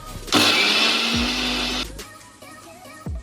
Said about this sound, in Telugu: అన్నీ కలిపి మిక్సీ పట్టేస్తాను